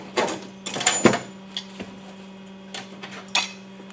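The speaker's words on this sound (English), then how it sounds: "Now we'll take our locating bolts out. And our die set should be free to come out." On a MultiCut balanced-drive machine, locating bolts are pulled and the die set lifted free, producing clustered metallic clanks and rattles early on, then sparser clinks over a constant low hum.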